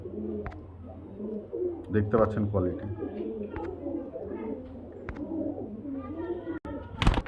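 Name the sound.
pigeons cooing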